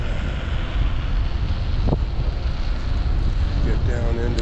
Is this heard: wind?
yes